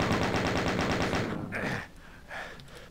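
Rapid automatic gunfire in the video game ZDoom, a dense loud stream of shots for almost two seconds, then two softer bursts.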